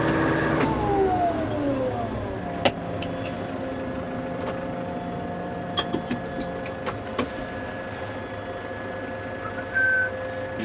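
A farm tractor idles steadily out in a field with cattle grazing at a distance, its engine droning and humming continuously while a few brief clicks and knocks surface over the constant running sound.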